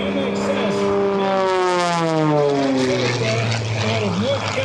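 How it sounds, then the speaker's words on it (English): An MXS all-carbon-fiber monoplane performing at a 2024 Westmoreland County airshow, its loud propeller engine droning with a falling pitch as it passes, while an announcer talks over it. "The aircraft that he is flying is one of only 12 in existence."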